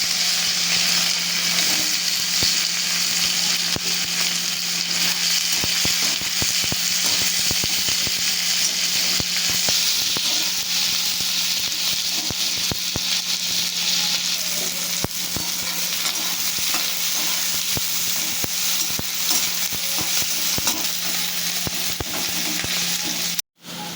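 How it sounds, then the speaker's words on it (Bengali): Continuous loud sizzling of cumin seeds and chopped onion frying in hot oil, close up, with crackles and stirring, ending abruptly. "তেলে ফোড়ন দিচ্ছি জিরে, দিয়ে দিচ্ছি কেটে রাখা পেঁয়াজ।"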